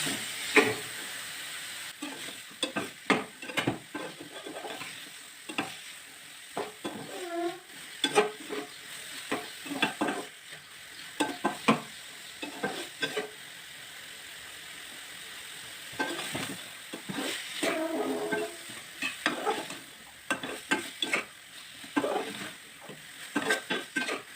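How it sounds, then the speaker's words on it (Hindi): Chana dal frying in a pan of masala with green chillies and fresh coriander, a steady close sizzle broken by repeated scraping stirs of a spoon against the pan. "हरी मिर्चें, और अच्छे से अब फ्राई करनी है आपको मसाले के अंदर दाल।"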